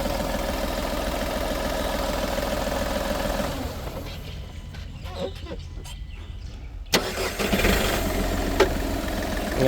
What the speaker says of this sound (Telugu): ఇంజన్ సౌండ్ కూడా మీకు చూపిస్తున్నా సార్